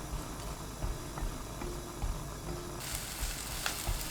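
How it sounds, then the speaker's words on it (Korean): Chopped green onion frying in a tablespoon of cooking oil in a pan over high heat, giving a steady close sizzle and crackle throughout, with a brief brighter hiss partway through. "지글지글 소리 나면서 기름이 끓으면"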